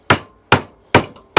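A hammer's peening end strikes metal four times at an even, unhurried pace, each blow a sharp, close, ringing crack that decays quickly into quiet, with no voices.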